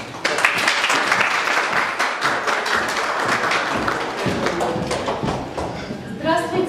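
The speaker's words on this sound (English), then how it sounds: "give a round of applause" Applause from an audience at a Republic Day celebration at Chuvash State University in Cheboksary, Russia, with dense overlapping claps throughout and background voices, thinning toward the end.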